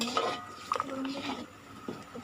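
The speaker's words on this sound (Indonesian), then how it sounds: "kita masak sampai mendidih sambil kita terus mengaduk ya teman-teman, agar di bawahnya itu tidak gosong" Manado porridge (tinutuan) being stirred in a cooking pot: faint scrapes and a few light metallic clinks of a spoon against the pot, heard softly under a person talking.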